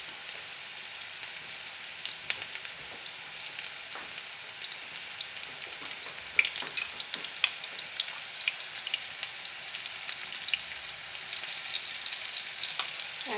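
Potato cubes frying in hot oil for a Bengali red lentil curry, giving a steady, fairly quiet sizzle with scattered crackles and pops throughout, with no voices.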